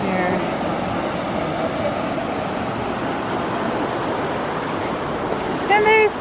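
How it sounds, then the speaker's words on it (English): A mountain creek rushes steadily near a footbridge on a trail, a broad, even wash of flowing water with wind noise, holding at a constant level throughout, with a brief bird chirp near the end. "Creek up here."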